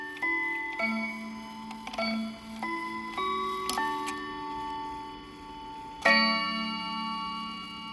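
A Hamilton West Germany pendant clock in outstanding condition gives soft, ringing chime tones that overlap and decay, with a brighter strike near the end, in a quiet room.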